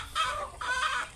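Chickens on a Filipino backyard farm where many hens are kept, clucking in two close, loud bursts of squawking calls with no talk over them.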